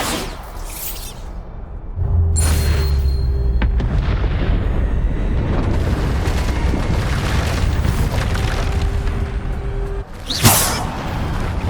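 Bombarda explosion spell from Hogwarts Legacy, a loud booming blast that rolls into a long rumbling roar and fades into crackle, with a sharp burst near the end.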